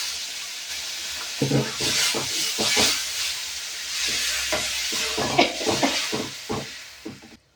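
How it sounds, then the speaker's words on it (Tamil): Tamarind water is poured into a pepper and garlic curry in a hot pan, and a loud hissing sizzle flares up in repeated bursts with stirring scrapes. The sound is close and clear, with no one talking, and fades out at the end. "இப்போ புளியை கரைச்சி வச்சுருக்கேன். இதை அப்படியே வந்துக்கிறேன்."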